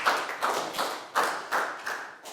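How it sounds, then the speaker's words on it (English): Students in a Year 4 health class clapping in a round of applause, a few sparse rhythmic bursts of hand claps, fairly quiet and close, with no talking. "High five and a big round of applause for Pangpon."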